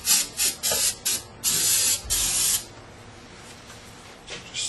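Brake cleaner sprays from an aerosol can in a series of short hissing bursts, then two longer blasts, loud and close, followed by quieter background.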